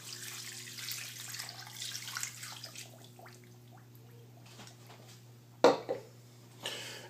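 Water pouring from a tap into a pot of pork for carnitas in a home kitchen, a steady rushing stream that softens, then a couple of louder splashes and clanks near the end, with no talk.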